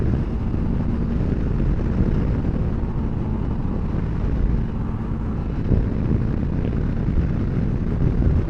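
A Kawasaki Versys X300 motorcycle cruising on a highway in sixth gear, a steady engine drone blended with heavy wind rush throughout and no talking.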